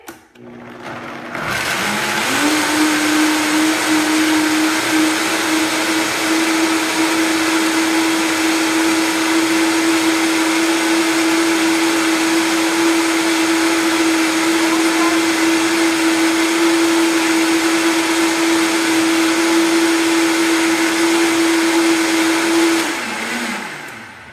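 A blender making cashew milk whirs loudly on high speed for over twenty seconds, a steady high-pitched mechanical whine that starts abruptly and cuts off at the end.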